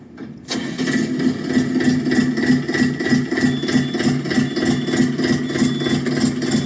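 A three-cylinder DTZ tractor engine idles at low revs after starting up, giving a loud, close, evenly pulsing chug with a steady lumpy rhythm and no voices over it.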